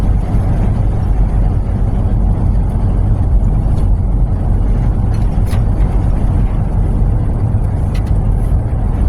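A vehicle on new tires all the way around cruises steadily down a road, giving a loud, constant tire and engine roar with a broad rumble and no break for the whole stretch.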